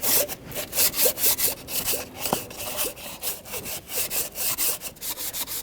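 Steady back-and-forth sandpaper strokes on a metal surface by a 2014-2019 Toyota Corolla 1.8L engine's knock sensor, close and fairly loud, with a rhythmic scraping texture and no talking.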